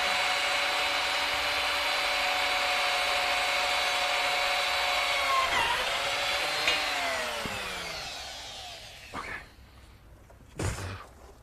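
A drill with a half-inch bit whines steadily, then winds down as the motor slows and stops, followed by a couple of knocks and clatters.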